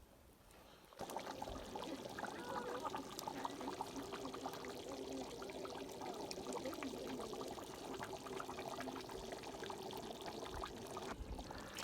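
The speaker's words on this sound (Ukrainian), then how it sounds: "зараз вливаємо водички, літрів з дві" Around two litres of water poured into a pot of bograch stew at a Carpathian highland homestead: a steady, close, gushing splash that starts abruptly and runs unbroken for about eleven seconds, with no voices.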